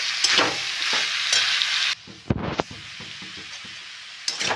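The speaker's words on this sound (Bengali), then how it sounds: "খুব ভালো করে এঁচোড়টাকে মশলার সাথে পুরো নাড়ি চাড়িয়ে মাখিয়ে নিয়েছি।" Boiled jackfruit is stirred and fried with spices in a pan: a steady close sizzle with scraping spatula strokes, a brief lull midway, then frying resumes, with no talking.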